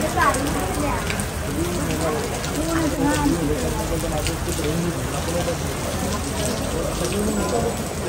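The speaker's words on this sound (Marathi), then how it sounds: "आणि पाऊस पण आलेला आहे" Rain falling at night at a roadside dhaba where a bus has stopped, a steady broadband patter under people talking, close and continuous throughout.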